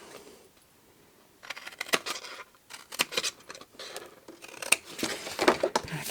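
Scissors snip and trim fabric for a bright gift pouch, close and crisp, in quick bursts of short cuts after a quiet start, with small handling rustles between.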